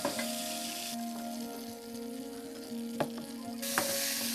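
Raisins fry in a hot pan for papaya halwa with a soft, steady sizzle, joined by a few sharp clicks and taps against a faint background hum.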